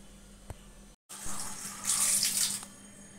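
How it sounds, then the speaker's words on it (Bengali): Tap water runs into a pot for tea in a home kitchen, a soft steady hiss that cuts off briefly after a small clink, then resumes and swells louder before easing back. "চায়ের জল দিয়ে দিচ্ছি"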